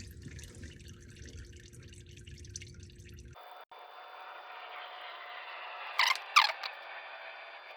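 Engine oil draining from the oil pan of a 3.1-liter V6, a steady close trickle into a catch pan followed by a few sharper drips and splashes toward the end.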